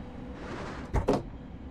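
Train cab door sliding shut in Train Sim World 3 on a Class 700 train, a quick pair of thuds and a rattle closing over a low steady cab hum.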